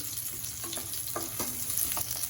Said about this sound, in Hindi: प्याज को अच्छे से भूनने देते हैं, थोड़ा सा ब्राउन होने तक।